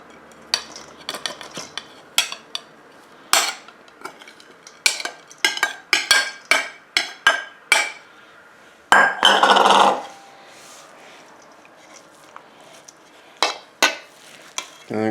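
Cooled ground beef and onion being mixed with cheese in a pan, a series of close scraping and clacking utensil strokes against the pan in an irregular rhythm, followed by a longer scrape and a quiet pause.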